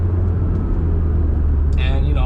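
A car fitted with a test pipe and an HKS exhaust gives off a deep, steady low rumble with a smooth drone and no sharp revving, close and continuous throughout.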